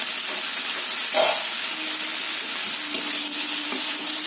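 Bitter gourd stir-fries in a pan on a home stove, a steady close crackling sizzle with occasional soft scraping as the pieces are moved around.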